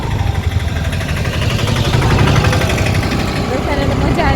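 Scooter engine running during a ride, a low, steady droning hum with a slight rise in intensity midway, sitting beneath people talking close by.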